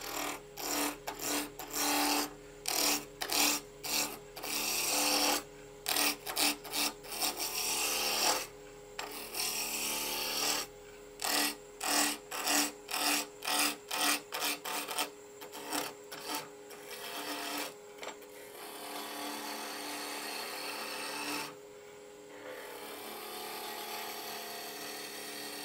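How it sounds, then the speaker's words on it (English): A wood lathe turns a wig stand, and a gouge rasps against the spinning wood in rhythmic bursts broken by short pauses. It gives way to a longer, steadier cut later on, all near and with no talking. "Now I've got this lathe set on high torque or bowl mode, so let me change the pulley."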